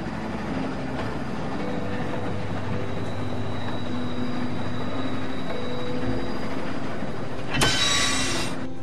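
Train rolling on rails in The Walking Dead video game, a steady low rumble with faint squeals throughout, ending in a brief bright hiss burst near the end.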